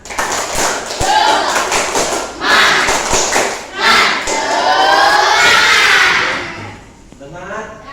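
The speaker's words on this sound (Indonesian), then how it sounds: "Kita tepuk semangat dulu." A classroom of children does the rhythmic tepuk semangat clapping chant with their teacher, sharp claps in patterned bursts mixed with loud children's chanting and shouting that rises and falls before trailing off.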